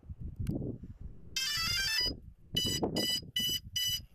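A drone's loud electronic alarm beeps in rapid pulses, first one long trill, then four shorter bursts, with handling noises in between.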